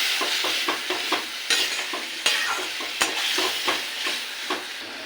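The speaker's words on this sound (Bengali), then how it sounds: "এবার মশলাটাকে ভালো করে কষিয়ে নেব" Spices sautéed with fried potato in a pan for a tomato rohu curry, giving a steady sizzle and fry hiss broken by repeated scraping stirs, close and fairly loud, with no talking.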